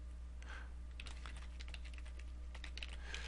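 Typing C++ code on a computer keyboard, with quick soft clusters of keystrokes in irregular bursts, close and quiet, no one talking.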